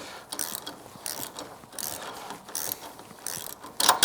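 A ratchet wrench clicks in quick rhythmic bursts during the installation of Nextech oval LED snow plow lights, close and clear with no talking.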